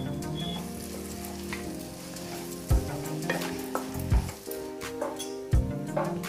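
Tomato masala and vegetables fry in oil over a low flame, giving a steady close sizzle with several sharp thuds and clatters where the mixture is stirred or added.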